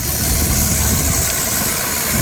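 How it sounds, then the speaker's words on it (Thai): A long-tail tourist boat engine drones loud and steady on a canal near Wat Paknam Phasi Charoen, a close, unbroken mechanical rumble with no voices. "มีเรือหางยาวของนักท่องเที่ยววิ่งสวนกันเป็นระยะระยะ"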